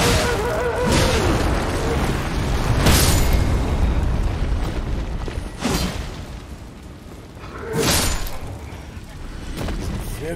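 Fire devil enemies in Elden Ring explode in repeated loud booming bursts, several blasts spaced a few seconds apart over constant game noise, while someone talks throughout.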